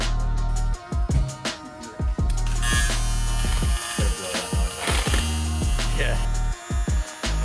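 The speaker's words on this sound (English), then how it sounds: "What are you welding up over here?" Welding on a BMW N54-swapped MK3 Toyota Supra gives a loud buzzing crackle in repeated bursts with short pauses between, close by, with a brief voice heard over it.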